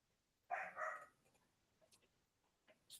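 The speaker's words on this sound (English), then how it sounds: "I keep on hearing dog." A dog barks in the background of an online meeting, a loud close burst of a couple of barks followed by fainter yips and whimpers, with no talk over it.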